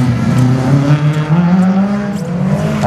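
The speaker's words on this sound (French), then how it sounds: "C'est le 205 qui accélère" A Peugeot 205 rally car accelerates hard through a slalom course at Saint-Lô, its engine note loud and close, rising and holding in a strained, continuous roar.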